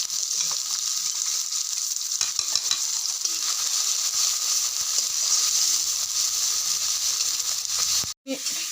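Tomato, onion, ginger and garlic fry in a wok for ghugni, giving a loud, steady, close sizzle that continues unbroken, with a brief dropout near the end.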